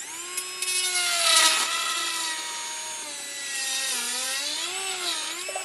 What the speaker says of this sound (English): sinking the burr all the way into the denture